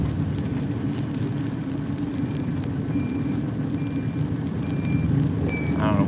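A truck at a night construction site sounds steady reversing beeps over a continuous low engine rumble, heard from nearby with no talking.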